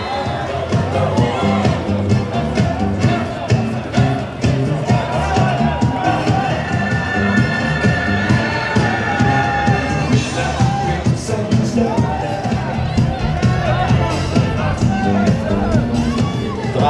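A large crowd on the red carpet at 'The Nice Guys' event screams and cheers for Russell Crowe, a loud, continuous roar of shouts and whoops with overlapping voices throughout.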